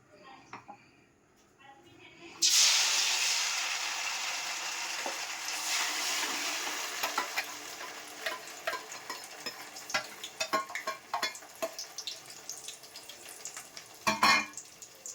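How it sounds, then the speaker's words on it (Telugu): Onion paste hitting hot oil for a Korameenu fish curry bursts into a loud, steady sizzle after a quiet start, with stirring clicks and scrapes crackling through the frying. "నూనె వేడెక్కినాక ఆనియన్ పేస్ట్ వేసుకోవాలి"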